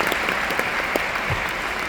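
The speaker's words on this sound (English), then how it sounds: "Also a big applause for Jolie, and of course for David, please." Audience applause at a business seminar in Budapest, a steady dense wash of many hands clapping throughout, fairly loud and continuous, with a brief louder burst at the very end.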